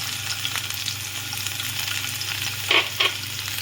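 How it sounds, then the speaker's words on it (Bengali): Garlic dropped into hot oil after green chillies in a pan, crackling and sizzling steadily and close up, with a couple of louder spatters or stirring scrapes near the end. "লঙ্কাটা ভাজা হয়েছে, এবার আমি রসুনটা দিয়ে দিলাম।"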